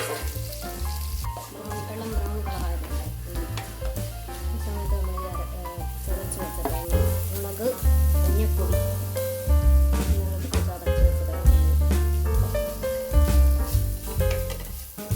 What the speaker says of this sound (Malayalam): കടുകൊട്ടി ഉള്ളി വറുത്തെടുത്തു വറുത്ത് അതിനകത്തോട്ട് തേങ്ങ ഇട്ടു കരിയേപ്പിലയും തേങ്ങയും കൂടി ഇട്ട്